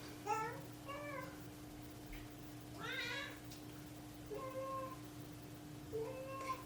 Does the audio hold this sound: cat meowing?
yes